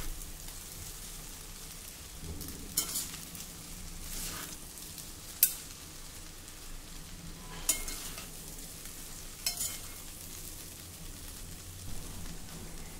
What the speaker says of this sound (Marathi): असा 2 चमच्याच्या साहाय्याने आपल्याला हे व्यवस्थित मिक्स करायचं आहे